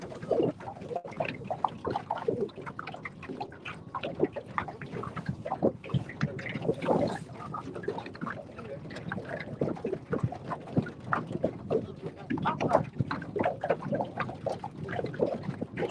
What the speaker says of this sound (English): Everybody hear the aluminum boat?